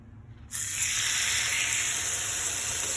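Salmon hits a hot grill and bursts into a loud, steady sizzle that starts abruptly after a brief quiet moment, then hisses evenly on its own.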